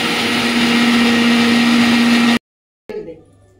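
Kitchen blender grinding a paste of onion, garlic and spices, a loud steady motor whine with a strong hum that runs for over two seconds, then cuts off abruptly; after a brief silence a clatter fades out.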